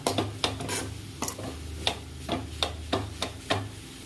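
A spatula stirs carrot and beetroot poriyal with spice powder in a pan, giving sharp scraping clinks about every half second over a soft sizzle and low background hum.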